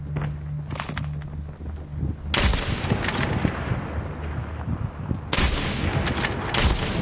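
Sniper rifle fire in Call of Duty Mobile comes as two loud sharp bursts, each a few seconds apart, with footsteps and movement sounds between them.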